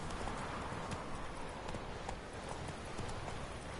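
Roach, a horse in The Witcher 3, gallops in a steady rapid clip-clop of hooves over a continuous wash of game ambience, with no voices.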